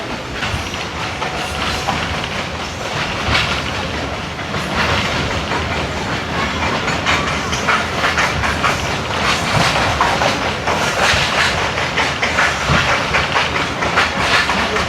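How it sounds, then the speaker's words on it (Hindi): Wheels of the Sukkur Express clatter steadily along the track in heat near Shikarpur, a loud continuous rolling rumble with rhythmic clicks heard from aboard, no voices. "ज़बरदस्त किस्म का ट्रैक साउंड उठ रहा है यहाँ से।"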